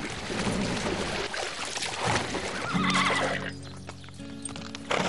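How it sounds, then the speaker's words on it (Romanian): A frightened horse on a farm whinnies with a drawn-out, wavering neigh, preceded by clip-clop hooves and rustling close by, with no talk over it. "Calul ăsta se teme de tot"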